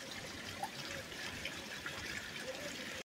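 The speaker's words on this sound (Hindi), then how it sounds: "तो इसी पानी से चावल धोते हैं" Water trickles and splashes steadily at a night campsite in Dumail, Naranag, Kashmir, as rice is washed in stream water; close, continuous gentle flow with small splashes, no talk.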